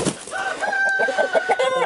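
A fighting rooster being handled and released, giving loud close clucks and a drawn-out strained crowing call over brief scuffling noise.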